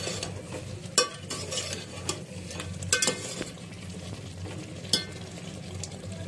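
Chicken korma masala fries in a pan, giving a low steady sizzle broken by occasional sharp clinks and scrapes from stirring, close by and without any talk.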